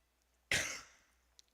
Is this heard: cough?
yes